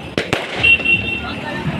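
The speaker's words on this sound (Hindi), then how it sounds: "पटाखे फूट रहे हैं" Two sharp firecracker bangs go off close by in quick succession during the Kanwar Yatra to Haridwar, followed by a hissing crackle and a noisy crowd of voices talking over it.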